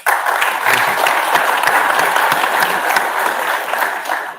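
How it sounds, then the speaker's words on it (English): An audience at an Andhra Pradesh–UK business forum road show in London breaks into steady, dense applause that fills the room evenly from start to finish. "I think that calls for an applause."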